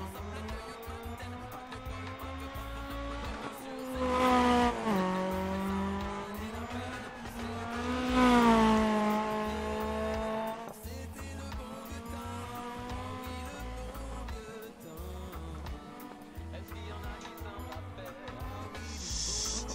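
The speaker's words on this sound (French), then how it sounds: "le bruit qu'elle a cette Renault 5" A Renault 5 Turbo rally car in the Dirt Rally 2.0 video game races the Centenera stage in Spain; its loud engine revs climb and fall through gear changes, with brief tire squeal and skidding.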